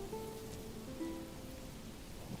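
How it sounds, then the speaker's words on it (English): Sleet and snowy rain falling in the video game Manor Lords, a faint, steady hiss of precipitation with a few soft tonal game sounds drifting over it. "In the game, yeah, it's coming in. It's like sleet. It looks like snowy rain, doesn't it?"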